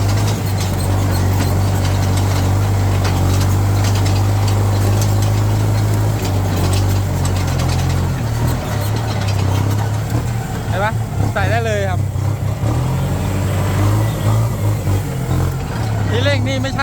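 A Kubota MU5702 tractor engine runs steadily while being driven, a loud, continuous low diesel drone with a strong hum throughout and a brief squeal near the end, and someone talks over it.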